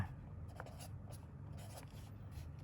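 Pen or pencil scratching out numbers by hand during a maths lesson on converting weight units, a run of short dry strokes close by, soft against a steady low room hum.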